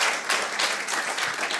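Comedy club audience applauding continuously, a dense, steady wash of many hands clapping at close range with a few brief swells and no talk over it.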